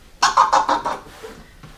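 A DJ scratches a vinyl record forward while clicking the crossfader, cutting it into five quick stuttered bursts, then a faint trailing scrape and a soft last hit.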